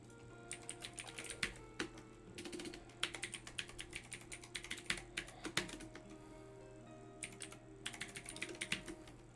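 Login details go in on a computer keyboard as quick bursts of light key clicks, broken by short pauses, at close range in a quiet room.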